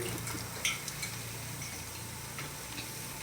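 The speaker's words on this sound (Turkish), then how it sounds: "Burada soğanı biraz kavuruyorum ben." Onions sauté in a pan with minced meat for a stuffed dried eggplant dish, making a steady low sizzle with a few light scraping and stirring clicks.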